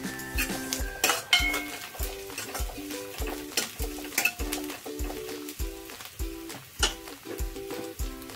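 Onions and green chillies frying in hot oil, steady sizzling under repeated rhythmic stirring with a spoon scraping and clinking against the pan, close and moderately loud.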